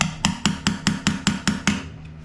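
A hammer tapping shims under a wobbly toilet, nine sharp, evenly spaced knocks close by, loud and ringing slightly, with no one speaking.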